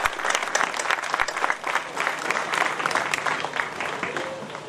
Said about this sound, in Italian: Facciamo un applauso alla memoria di queste persone.